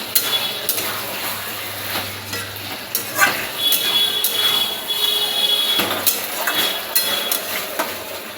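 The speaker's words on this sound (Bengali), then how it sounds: "তো গ্যাসটা জোরে দিয়ে আছে, একটু ভালো করে নেড়ে চেড়ে কষিয়ে নেবো।" Potatoes are stirred and sautéed in a pan over a high gas flame. Clattering utensil scrapes and knocks come up close over a constant sizzling hiss, with a faint voice in the background.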